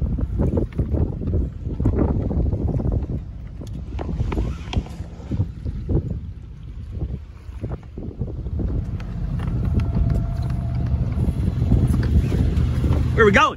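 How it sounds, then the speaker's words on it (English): A sailboat motors down the Intracoastal Waterway, its engine a steady low rumble mixed with wind buffeting and water noise throughout, while people talk over it. "Stay aboard as we cruise down the ICW today"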